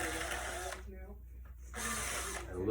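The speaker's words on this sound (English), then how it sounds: "take a drill a little bigger than the hole" A power drill, fitted with a bit slightly bigger than the holes, bores old caning out of a chair seat. Two close, whining bursts are separated by a short pause.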